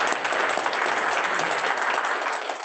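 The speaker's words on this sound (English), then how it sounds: "Can we give a round of applause for all the women in the room?" Audience at a Kiwanis Club meeting giving a round of applause, dense steady clapping throughout that fades slightly at the end, fairly close and with no talk over it.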